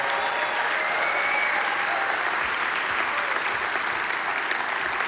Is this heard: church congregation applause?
yes